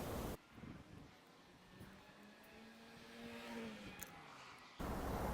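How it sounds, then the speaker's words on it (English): Steady rushing wind noise buffets the microphone throughout, a low continuous roar with gusty swells and no voices. "it's very windy and it's blowing everything out of place"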